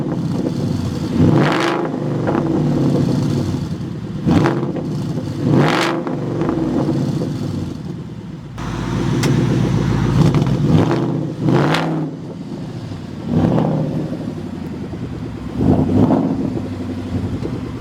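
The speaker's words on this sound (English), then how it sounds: "So let's get a few revs in because I know it's warm now." A warm Ford Mustang engine is revved while parked, with repeated throttle blips rising and falling over a steady rumbling idle, loud and close, with no talking.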